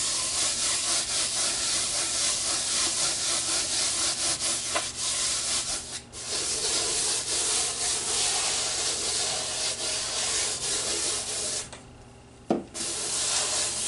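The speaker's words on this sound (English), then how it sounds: "And just rub it in really good." Cornstarch is rubbed into the surface of an acrylic pour painting that had silicone, making a continuous close, dry rubbing and scrubbing with a few short pauses and one sharp knock near the end, with no voices.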